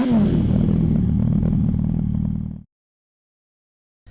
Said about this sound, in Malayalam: ഇപ്പം ഞാനിത് പമ്പ് ചെയ്ത് ഏങ് ഏങ് ഏങ് ഏങ് ഇങ്ങനെ പമ്പ് ചെയ്ത് കൊടുത്തേക്കാണ്